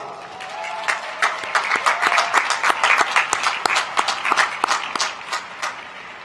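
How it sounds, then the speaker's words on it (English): An audience applauds at a high school graduation ceremony, a dense wash of clapping with sharp individual claps standing out, steady and fairly loud for about six seconds. "Please give them a round of applause"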